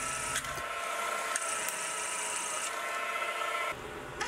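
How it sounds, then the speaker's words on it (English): A half-inch reamer cuts through a drilled hole in a steel rotary broach tool holder, giving a steady, close grinding rasp that runs without a break, with a few brief shifts in tone. "I then finished it up with a half-inch reamer."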